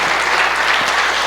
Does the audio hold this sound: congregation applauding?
yes